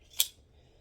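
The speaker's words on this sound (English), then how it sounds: "you're just going to cut that strip" Scissors snip once through a fabric strip in a single crisp, close cut, with quiet room tone before and after.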